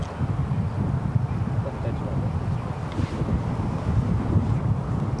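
Strong wind buffets the microphone at a golf course in London, a constant low roar lasting the whole stretch with faint voices beneath.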